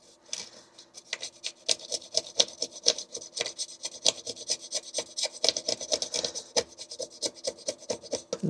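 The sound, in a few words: filing hardened UV resin on a 3D print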